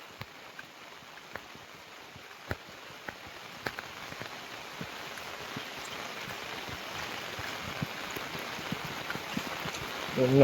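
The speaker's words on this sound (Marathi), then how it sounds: "पाऊस पडतोय" Rain falling at Devgad beach on the Konkan coast, a steady soft patter with scattered sharper drops striking nearby surfaces, continuous and fairly faint throughout.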